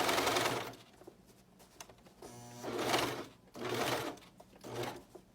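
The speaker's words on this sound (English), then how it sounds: "because I'm using a cover stitch, I'm very particular on making sure I hit my last stitches" A cover stitch sewing machine stitches a dress in several quick bursts of rapid mechanical whirring, with short quiet pauses between runs, close and clear with no talking.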